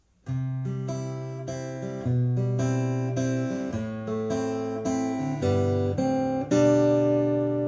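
Guitar plays the intro of a song alone, clear picked notes and chords changing every beat or so, moving steadily up to a final ringing chord.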